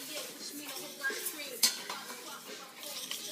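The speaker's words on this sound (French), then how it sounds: "Je mets le riz. Je le mélange dans l'huile" Rice stirred into oil in a pot with a metal utensil, close scraping and clinking against the pot under a soft frying hiss, steady and continuous with one sharper clink midway.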